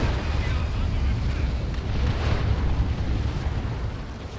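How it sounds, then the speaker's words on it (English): Rocket run explosions in the Dawn of War 2 video game: a continuous loud rumbling roar of blasts, heavy and dense, with no clear gaps. "Oh, rocket run in the mid."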